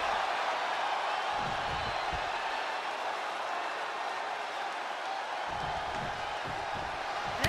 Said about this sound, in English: And Jade is getting the crowd going.